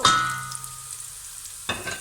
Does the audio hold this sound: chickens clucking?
no